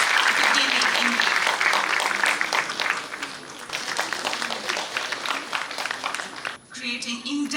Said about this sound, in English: Can we have a loud round of applause to commemorate this auspicious beginning indeed?